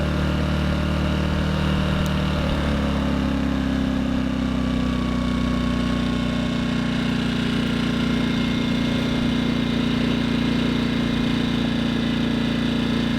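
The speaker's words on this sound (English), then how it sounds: "so you can just click that down, and it takes it from running to just almost an idle" A Firman portable generator drops into economy mode near idle: a loud, steady engine hum close by that settles to a lower, smoother drone after a couple of seconds.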